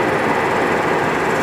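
A Clausing-Colchester 17/28 x 80 inch gap bed engine lathe, model 8052, runs loud and steady, a dense mechanical hum and whir with no pauses and no talk over it.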